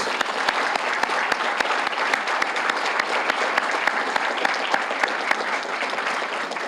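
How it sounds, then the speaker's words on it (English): Sustained audience applause at an award ceremony at Oak Hill Country Club, a dense, even roar of many hands clapping with crisp individual claps standing out near and steady throughout. "So let's give them a round of applause."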